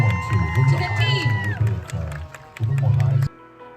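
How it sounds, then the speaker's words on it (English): A crowd at an Indian mela in America claps and cheers for a youth dance company. Shouts and children's voices rise over the clapping, loud and lively, and an announcer speaks over it before the noise cuts off. "A round of applause to the team."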